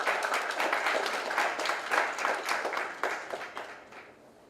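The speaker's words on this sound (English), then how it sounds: "Can we please have another round of applause for Ms." An audience at a landscape architecture scholarship event gives Ms. Parikh another round of applause, a moderate, steady patter of many hands that fades out over a few seconds.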